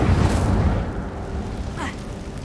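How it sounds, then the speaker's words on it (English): An Incendio fire spell is cast in Hogwarts Legacy, a loud roaring whoosh of flame that is strongest at the start and then fades, with a brief swishing flourish near the end. "Incendio!"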